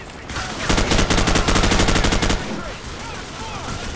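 Sustained automatic gunfire from Call of Duty Modern Warfare in a swamp battle around a disabled M1A2 Abrams tank, a loud rapid burst of evenly spaced shots lasting nearly two seconds, then trailing echoes and scattered distant chatter.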